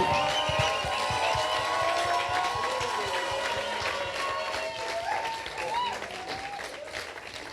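A church congregation claps steadily for young people stepping onto the stage at a Youth Sunday service, dense and sustained applause lasting throughout, with a few voices underneath.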